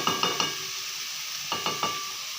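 Fried masala for egg curry sizzles in a pan while a spoon scrapes and stirs it, giving several sharp clacks in two quick bursts over a constant hissing fry.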